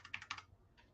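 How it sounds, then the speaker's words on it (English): Keys clack on a Logitech G915 keyboard in a quick burst of several close, crisp strokes, then a pause and one softer tap, with no speech. "This is the Logitech G915."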